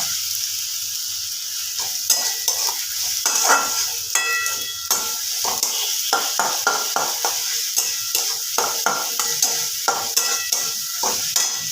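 Ginger garlic paste masala for Kashmiri chicken sizzles in hot oil as a spoon stirs and scrapes the pan with quick, regular clinks, with steady frying hiss throughout and no talking.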